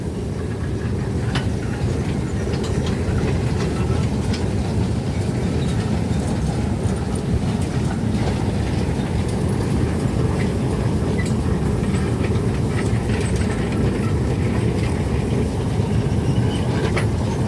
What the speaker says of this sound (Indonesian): ini dia lori bermuatan tebu paling belakang yang ditarik oleh lokomotif Hokuriku nomor 5